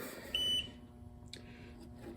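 A Ryobi TPMS tool gives a single short, clean electronic beep at power-on, a clear tone standing out against a quiet background, followed by faint clicks.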